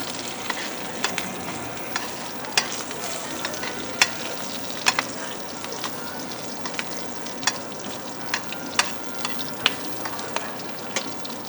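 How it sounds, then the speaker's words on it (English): A shrimp and rice dish made with Gulf shrimp cooks in a pan on turned-down heat, giving a steady close sizzle and bubbling, dotted with frequent sharp clicks and taps of a utensil against the pan, with no talk. "Turn our temperature down. That's just going to simmer away."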